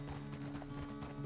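Horse hooves clip-clop at a walk in a Western video game, soft steady thuds under a constant electrical hum.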